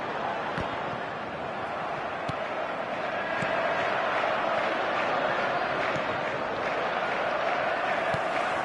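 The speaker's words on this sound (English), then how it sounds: "Maybe the crowd will stay a little quieter next time." Steady stadium crowd roar from an eFootball 2026 match, a dense continuous wash of noise with a few faint sharp knocks, holding at an even level throughout.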